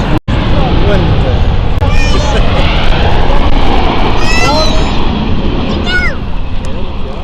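Jet airliner roaring at Lisbon Airport, a loud, continuous broadband engine rush that fills the whole stretch, while people talk over it throughout.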